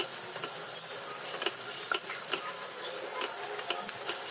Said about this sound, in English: We're going to fry the onion till it's nice and translucent.